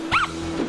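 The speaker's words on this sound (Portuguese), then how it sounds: "ele começa a latir e não para." One short, sharp bark from a dog, probably a Shih Tzu, rings out once over a steady background hum.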